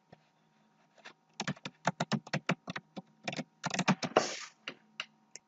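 Close, brisk typing on a computer keyboard as a short name is entered: a quiet start, then a rapid run of sharp key clicks with one longer louder clatter near the end, no voices.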